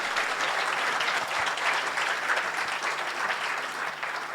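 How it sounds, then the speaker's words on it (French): An audience applauds at a closing awards ceremony, a dense, steady roar of many hands clapping that carries evenly through the whole stretch, loud and close, with no voices rising above it. "On peut les applaudir s'il vous plaît"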